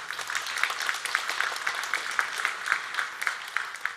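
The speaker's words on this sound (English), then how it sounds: "so let's give him applause" Audience applause at the Moldova Cybersecurity Forum 2024, a moderately faint, steady patter of clapping with a slightly pulsing rhythm throughout, no talk over it.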